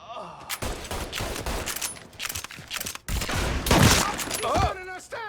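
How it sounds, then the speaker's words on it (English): Gunfire in the Mafia 3 video game: dense bursts of rapid shots from several weapons, loud and close and overlapping in a chaotic firefight, with shouted voices breaking through between volleys. "Keep shooting!"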